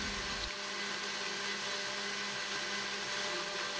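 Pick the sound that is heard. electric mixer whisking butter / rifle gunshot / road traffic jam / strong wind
electric mixer whisking butter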